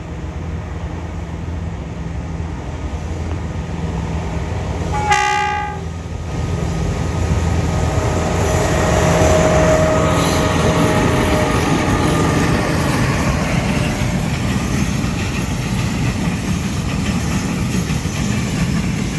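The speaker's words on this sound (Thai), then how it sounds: "ตอนนี้ขบวนสองก็ออกมาแล้วนะครับ" SRT freight train 722, hauled by a Hitachi locomotive, passes on the curve before the bridge with a loud, steady diesel rumble and rolling wagon noise, a short horn-like tone near the five-second mark, and continuous rail clatter that builds as it goes by.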